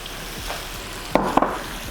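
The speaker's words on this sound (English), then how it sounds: "we want to hear that just sizzle really nice." A steady sizzle of garlic frying in a pan, with a couple of brief clatters as it's stirred.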